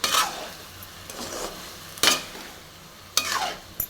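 Ridge gourd sautés in oil in a pan for chutney, with four quick scraping stirs of a spatula over a light, steady sizzle.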